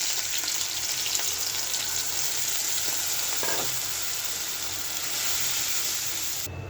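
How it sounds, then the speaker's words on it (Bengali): Boiled potatoes frying with onion, turmeric, chili and coriander powder and salt, a loud continuous sizzle and hiss from the pan with faint stirring scrapes, no voices. "এখন এই মশলাটা কষে নেব"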